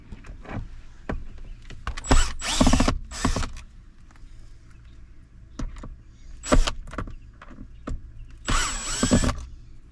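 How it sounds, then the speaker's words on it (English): A power driver removes the four small screws along the back of a 2013-2025 Ram center console lid, running in several short, close whirring bursts separated by quieter handling noises. "all you have to do to get this off is take out these 4 screws along the back"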